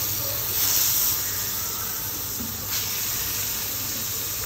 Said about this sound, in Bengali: তো তেলটাও গরম হয়ে গিয়েছে, এবারে আমি মাছগুলোকে দিয়ে দিচ্ছি।